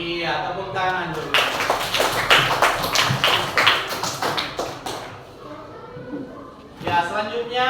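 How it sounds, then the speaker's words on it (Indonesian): A class of fifth-grade elementary school children claps hands together in a quick, rhythmic burst of about a dozen loud claps, with a teacher's voice speaking before and after. "Iya, tepuk tangan dulu."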